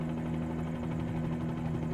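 Steady droning rotor and piston engine hum of a Bell 47G helicopter in Microsoft Flight Simulator 2020, a constant low buzz with strong tonal bands and no speech.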